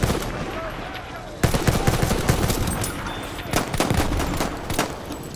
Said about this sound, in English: Glad I missed every one of those shots